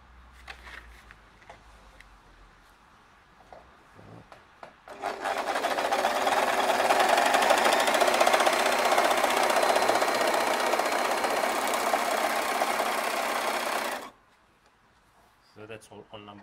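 An overlocker sewing machine running with fabric through it, a loud steady whirring drone starting after a few quiet seconds and holding evenly for about nine seconds before stopping abruptly, with faint handling sounds around it.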